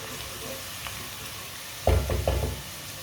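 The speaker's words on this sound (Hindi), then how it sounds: "प्याज को हल्का सा ब्राउन कर लेंगे। इसे 2-3 मिनट के लिए पका लेना।" Onions browning in a pan give a low, steady sizzle, then a few quick stirring scrapes and knocks near the end.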